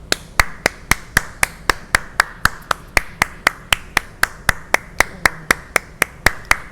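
Single pair of hands clapping in a slow, steady, even rhythm, each crisp clap close and distinct, repeated about twenty times with no talking.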